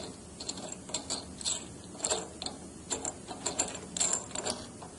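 Wrench turning the adjusting screw on a Mark 60 pressure regulator during a rebuild, a run of close, quiet metallic ratcheting clicks in an uneven rhythm, with no talk.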